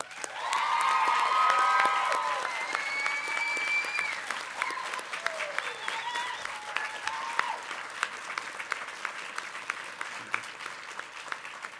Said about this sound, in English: And so now, through your applause and your cheering,